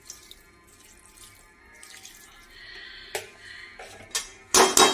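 Water is poured into a cooking pot, starting as a soft trickle and building to a louder splashing gush near the end, with a few clanks of the pot.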